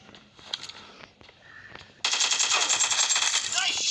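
Gunfire in the mobile shooter BGMI during a 1v1 match, a quiet stretch of small footsteps and clicks followed by a sudden loud, rapid burst of repeated shots that continues to the end, with faint talk early on.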